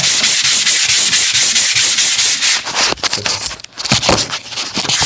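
Floor screen sander with 100 grit working a wood floor near the edges: loud, continuous gritty rubbing and scraping close up, pulsing as it moves back and forth, turning rougher and more uneven toward the end.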